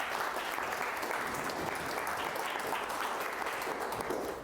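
An audience at a Morris Canal Greenway talk applauds to welcome the speaker, a dense sustained clatter of many clapping hands that fills the room evenly and begins to fade at the very end.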